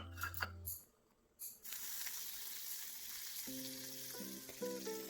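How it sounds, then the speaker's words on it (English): Water splashed onto a hot martabak griddle sizzles with a soft, steady hiss that settles in after a brief pause, with faint cooking clatter and tones near the end. "The water evaporates slowly and there is like a small sizzle."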